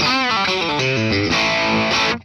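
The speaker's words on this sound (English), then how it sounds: "So the compressor works a little bit better with distortion" A compressed, distorted 1982 Gibson Les Paul Custom electric guitar plays a quick run of notes that ends in a sustained chord, loud and dense with no voices.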